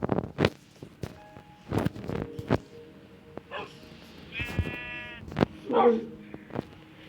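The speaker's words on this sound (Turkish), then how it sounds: "Biri havlıyor, biri me yapıyor." Several sheep bleat in bursts, one long wavering bleat standing out, with dogs barking and someone talking over them nearby.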